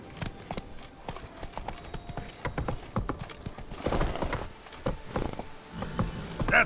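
Hooves of the horse Roach in the video game Witcher 3 clip-clop in a steady trotting rhythm, moderately loud and close, continuing throughout with no talk.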